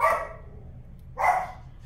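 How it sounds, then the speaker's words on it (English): Dogs barking indoors after a chair is moved, two short bursts of barking separated by a pause of near silence, fairly close and moderately loud. "the dogs thought it was something, and now they're barking"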